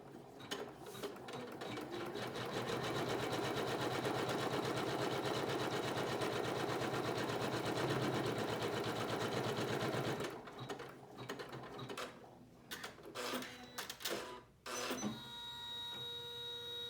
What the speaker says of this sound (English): we're going to take it back to the machine and we're going to stitch our next trimming line.